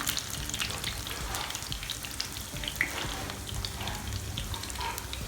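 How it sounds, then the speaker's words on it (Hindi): Potato chapli kebabs shallow-fry in a little oil over a medium-low flame, giving a steady, close, even sizzle with faint crackles throughout and no voices. "इनको हमने इतने से ऑयल में हम इनको फ्राई करेंगे"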